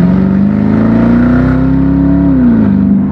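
A 2012 Jaguar XF with a 5.0 V8, gearbox in sport mode, revs loudly and close by, its deep engine note climbing steadily in pitch for over two seconds before dropping back, with no talking.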